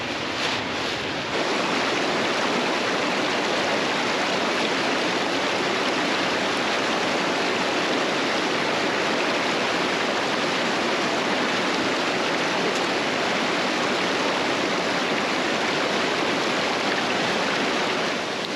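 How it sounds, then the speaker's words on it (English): A creek rushing past a backpacking trail crossing in the Shining Rock Wilderness makes a steady, dense wash of flowing water, close and loud, with no talking throughout. "we got to start our morning with a creek crossing."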